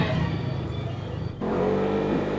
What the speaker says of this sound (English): I'm driving a side-by-side on the street